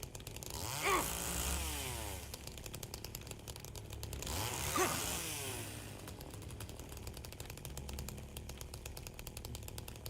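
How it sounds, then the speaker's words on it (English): Chainsaw from the video game Silent Hill 2 Remake, revving loudly in two surges near the start and middle over a constant buzzing idle, with the engine droning on throughout. "I didn't want to have the chainsaw out. It's really loud and annoying at times."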